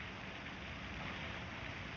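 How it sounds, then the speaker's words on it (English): Rain falling steadily during a storm, a dense, even hiss of drops with no breaks, fairly faint and continuous throughout. "I didn't care about the rain"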